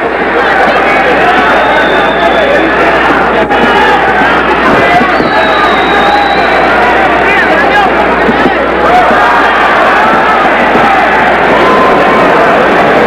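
A loud, dense crowd at a 1980 USA versus Cuba amateur boxing match roars and chatters continuously, a steady wall of cheering and babble throughout.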